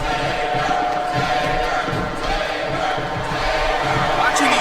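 Arena crowd noise in the wrestling game WWE SvR 2007, a steady loud roar of cheering and shouting that fills the whole stretch, with commentary voices mixed in.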